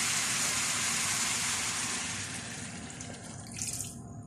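Water pours in a steady hissing stream into a pan of sautéed chayote, fairly close and continuous, then tapers off near the end into a few splashy sizzles with no talk.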